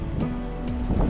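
Rough sea slaps and wind buffet a sailboat crossing a channel between two islands, a short burst of gusty rushing noise with a couple of wave splashes, close and loud.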